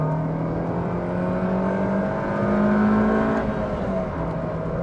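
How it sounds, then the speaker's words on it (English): A 24-year-old Ford Puma 1.7 accelerates in second gear, its engine and intake induction noise rising in a smooth, steady whir that builds in pitch and volume, heard from inside the car with no talking. "Going to second gear. And there's the induction sound."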